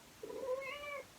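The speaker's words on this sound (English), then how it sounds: "So we have a short kitty intermezzo." A house cat gives a single clear meow, rising and then falling over about a second, heard alone and fairly close in a quiet room.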